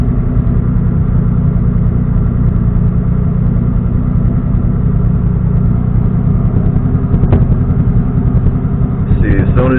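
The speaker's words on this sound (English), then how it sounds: "as soon as you hear something backfired and while it's idling" A car engine idles steadily on its first start with a loud, low rumble throughout, giving a brief sharp backfire pop near the end.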